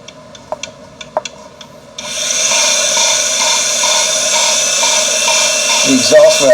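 Valves being lapped on a Mercruiser GM 496 8.1 cylinder head: a few sharp taps, then a loud, continuous gritty rubbing and rasping that keeps going, with a brief scrape near the end.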